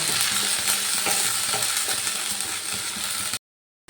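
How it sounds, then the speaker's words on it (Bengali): Ginger-tomato paste is sautéed in oil with dried chili and cardamom, making a close, continuous sizzle with scraping spatula strokes. It cuts off abruptly near the end, with no voices. "আমি যে আদা টমেটোর পেস্ট বানিয়ে রেখেছিলাম সেটা দু চামচ দিয়ে দিলাম এবার একটু ভালো করে কষিয়ে নেব"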